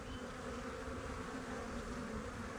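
Honey bees swarm around an open nuc hive during a colony inspection, their buzzing a dense, continuous drone close to the microphone with no pauses or voices.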